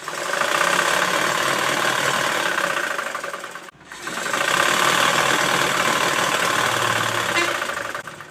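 Sewing machine stitching the tip edge of a garment runs in a steady, loud, close mechanical whir, stopping briefly midway before starting again at the same even pace.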